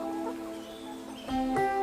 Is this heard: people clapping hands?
no